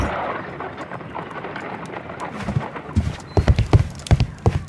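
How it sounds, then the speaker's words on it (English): A horse-drawn cab clip-clops along on a gloomy, rainy night in a Sherlock Holmes video game. Soft rain and rumbling open it, then distinct hoofbeats grow louder and more rhythmic toward the end. "Holmes, please call a cab while I pack my suitcase."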